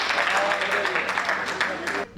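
An audience at a Hindi comic poetry gathering claps together in a dense burst of applause, loud and sustained for about two seconds before cutting off abruptly.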